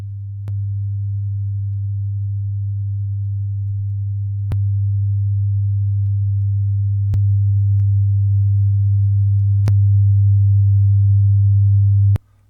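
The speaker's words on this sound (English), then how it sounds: "The next 5 sets of tones are 100 Hertz each, but the modulation increases laterally each time." A steady 100 Hz test tone from a CBS Laboratories professional test record plays loud and continuous, broken by faint clicks every few seconds as each lateral modulation set steps up, then cuts off abruptly.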